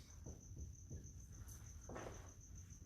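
Crickets chirp steadily in a quiet room, a continuous high trill running throughout with soft low thumps and rustling underneath.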